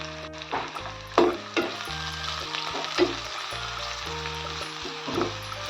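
Onion fries in a pan with a continuous sizzle, a few clanks of stirring, and a steady background of tonal music, no talking.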